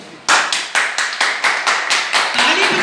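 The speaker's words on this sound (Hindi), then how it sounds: "ताली बजानी है तो दमदार बजाओ" Audience applause from a crowd at a Hindi speaking event, loud and dense from the start and carrying on steadily after a quiet lead-in, with no talk over it.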